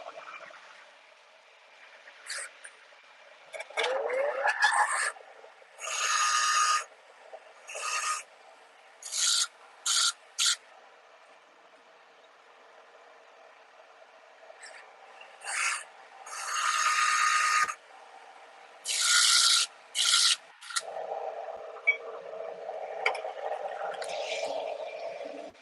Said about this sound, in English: Just going to sharpen my tungsten.